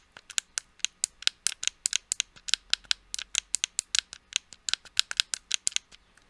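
C1 and C2 custom buttons on a Sony A7-series battery grip being pressed repeatedly, a quick series of small sharp plastic clicks, close and quiet, with no talking.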